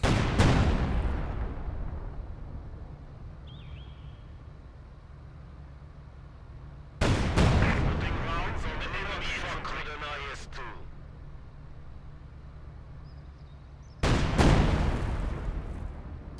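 Artillery shells hit infantry squads in the wartime strategy game Company of Heroes 2. There are three heavy, booming blasts several seconds apart, and each one fades into a long rumbling tail.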